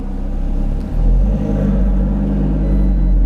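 An Audi RS3 running on a dyno, its engine holding a deep, steady rumbling drone with a brief dip early on, loud and close in a workshop.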